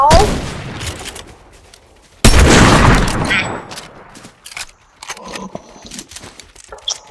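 Heavy sniper rifle shots in a Fortnite match: a loud blast at the start, then a second, heavier boom partway through, each trailing off into scattered in-game clatter and quieter sounds.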